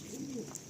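Female Madrasi pigeons coo softly in a loft, a low rolling coo rising and falling briefly at close range with no talk over it.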